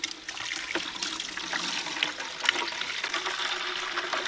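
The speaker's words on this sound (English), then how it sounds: "then you can cook it down and then take your bark liquor out the bottom" Bark tanning liquor pours steadily from the spout at the bottom of a cooking pot, a continuous close trickle and splash with small gurgles and no talking.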